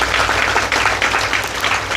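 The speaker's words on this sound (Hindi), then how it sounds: "महाराज ताली बजाइए ना इनके लिए।" An audience at a Devi Bhagwat Katha religious discourse claps together in steady, loud applause, with no speech over it.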